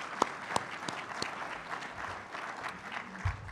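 Audience applause at a chamber of commerce business luncheon, honoring the mayor after her talk, with steady moderate clapping and a few sharper individual claps standing out near the start.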